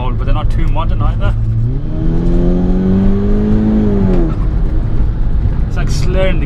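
A 350 bhp mapped GTI accelerates hard in launch mode, its engine rising in pitch through a long pull before the slurred gear changes drop it back, loud and close throughout with faint chatter underneath.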